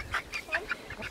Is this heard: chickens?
yes